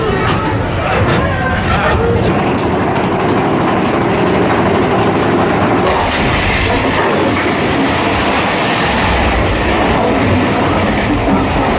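A loud, continuous rumble and rattle of the Big Thunder Mountain Railroad mine train coaster at Disneyland running on its track, with clattering wheels and a distant murmur of voices.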